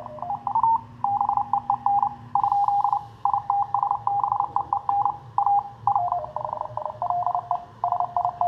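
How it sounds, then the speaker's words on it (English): CW Morse code signals come through a 40 m SSB transceiver receiver as a steady run of clear keyed tone pulses over a low hum and background hiss, with a second, fainter tone nearby. "I'm going to tune it down to the CW part of the band. See what's cooking down there."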